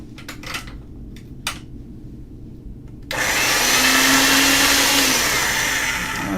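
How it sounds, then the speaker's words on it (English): A pasta machine on its thickest setting rolls polymer clay. Some faint handling clicks come first, then a loud steady whirring motor drone starts and runs to the end. "Now I'm going to get this through the machine on the thickest setting"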